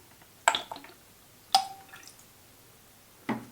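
Simple syrup, a 1:1 mix of sugar and water, dripping into a margarita cocktail: three separate close, soft wet drips and splashes spaced about a second apart, with no talking.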